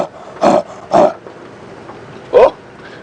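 A voice imitates a leopard's roar on a live safari drive: three short, rasping sawing grunts with pauses between them, loud and close.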